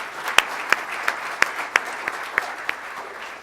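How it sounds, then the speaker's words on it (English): Applause from a Rotary Club of Tulsa meeting audience: scattered, fairly sparse claps in a modest, steady patter that fades out within a few seconds, with no talk over it. "Let's give them a big round of applause."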